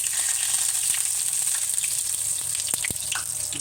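Bay leaf sizzling in hot oil while tempering a pumpkin and chana dal, with steady, close frying crackle throughout and a few sharper pops near the end, no voices.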